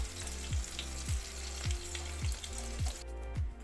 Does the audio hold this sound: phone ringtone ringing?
no